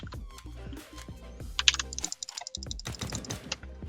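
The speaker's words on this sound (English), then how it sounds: "I'm going to bring the mouse up to the mic so you can hear me clicking." A computer mouse held right up to the microphone gives a close run of sharp clicks and clatter, loud and alone with no talking.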